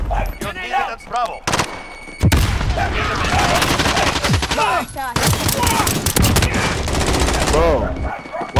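Rapid bursts of automatic gunfire and explosions from a Call of Duty: Modern Warfare match, loud and dense with repeated volleys, mixed with voices and radio chatter between shots.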